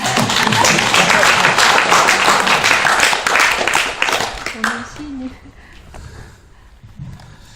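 Loud audience applause at a concert at Seoul Library fills the first several seconds, then fades out as a voice speaks briefly.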